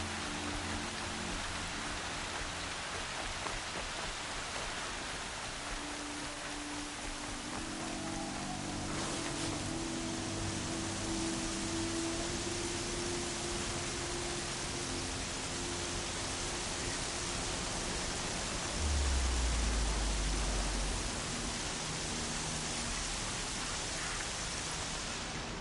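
Heavy rain pours steadily in the game Horizon Zero Dawn, a dense continuous hiss of falling water that holds at an even level throughout, with low rumbling tones underneath and a brief deeper thump partway through.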